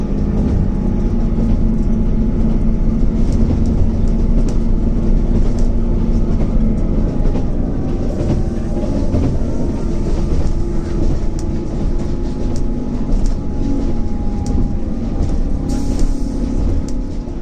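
Passenger train travelling along the Cambrian Coast line in Wales, heard from inside the carriage as a loud, steady rumble of wheels and running gear with light rhythmic rail clicks and faint squeals throughout.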